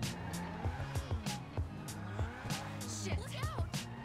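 Custom racing car engine sound in FiveM revs with squealing tire skids, with bursts of game-style sound effects over a steady motor drone and some speech mixed in.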